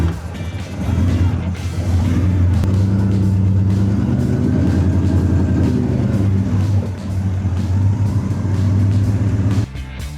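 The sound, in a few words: 1934 Black Betty car driving on the road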